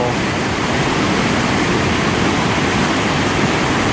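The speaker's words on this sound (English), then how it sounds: "As you can see, the river is flowing pretty good." Steady rushing water fills the clip, a loud, continuous roar of a fast-flowing Minnesota river running high after overnight rain, with no pauses.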